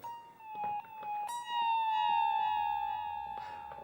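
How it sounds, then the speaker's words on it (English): An electric guitar played through delay and a volume pedal swells in with sliding, cry-like tones that resemble a seagull, one long bending note ringing out and fading with echoing repeats, clear and alone. "If I use the volume pedal, I can get it to sound sort of like a seagull in certain areas."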